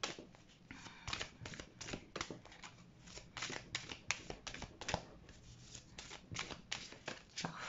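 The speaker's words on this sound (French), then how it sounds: "Ce sont mes guides qui font sauter les cartes pendant que je les bats." Tarot cards are shuffled by hand in rapid, rhythmic riffles, close and quiet, with crisp papery flicks repeating steadily and no talking.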